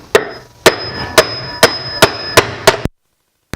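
Sharp hammer blows ring out on metal, striking a driver tool during Mazda CX-9 water pump and timing chain work, about eight evenly spaced strikes, loud and close, then silence.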